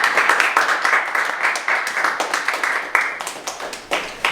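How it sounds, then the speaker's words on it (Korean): A small group claps for a student at a 2021 middle-school graduation ceremony in Korea, close and fairly loud, with individual hand claps in a quick, uneven rhythm that continue without a break. "우리 학생에 대한 호에게 뜨거운 박수 한 번 주시죠"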